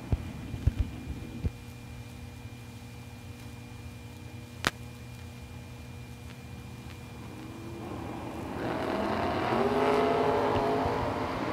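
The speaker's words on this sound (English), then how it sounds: "69 Camaro taking on Tommy Rice. Rice in his Camaro in the left lane." Two 1969 Camaros launch at a drag race, a few sharp clicks and a low rumble giving way to a rising engine roar that swells loud toward the end.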